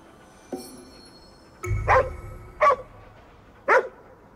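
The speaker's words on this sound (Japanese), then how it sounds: "この犬を守れ。" In the video game Ghostwire: Tokyo, a dog barks three times in sharp, evenly spaced barks after a faint thump and a low rumble, all close and clear, with no talking.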